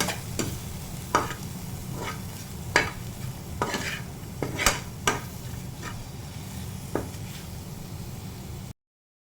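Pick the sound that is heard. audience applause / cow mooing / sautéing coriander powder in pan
sautéing coriander powder in pan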